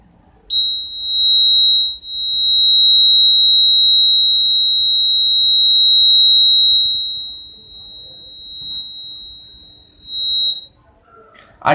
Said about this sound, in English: After 1 minute the alarm will ring.